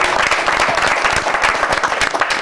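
Visiting members of a Granata supporters' club applaud in a TV studio: loud, close, dense clapping from a small group, continuous and fairly even for a couple of seconds.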